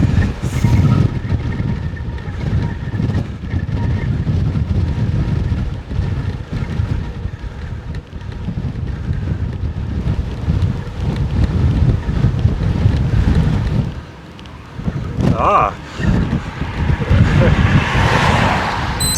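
Strong gusting wind roars across the microphone while bikepacking in Norway, a loud continuous buffeting rush that briefly drops away and then surges back near the end.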